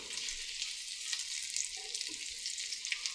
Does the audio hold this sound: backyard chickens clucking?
no